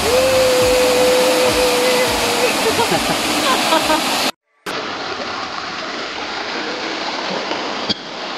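Masaba Falls waterfall in Villaba, Leyte, a loud, constant roaring rush of falling water filling the whole clip, with a brief drop-out midway.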